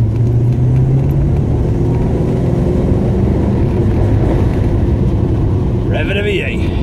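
A Rover P6 V8 car runs steadily on a country road as it rounds a stone-wall bend, with a deep, constant engine rumble heard close from inside the cabin and a brief voice toward the end.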